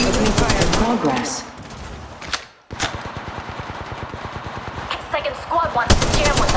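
Automatic weapon fire in the mobile shooter game Apex Legends Mobile, rapid rattling bursts close up with a brief gap, mixed with game sounds and speech in the background.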